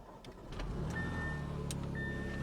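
A car on a Copart salvage auction lot starts with a push-button ignition, and its engine catches and settles into a steady, close running drone that holds for a couple of seconds.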